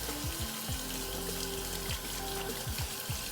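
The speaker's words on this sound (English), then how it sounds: "take your can of chickpeas, rinse them." Canned chickpeas are rinsed under a running kitchen tap, a steady wash of splashing water throughout, with faint knocks and small clatters mixed in.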